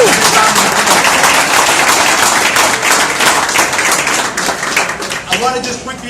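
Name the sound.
fundraiser audience applauding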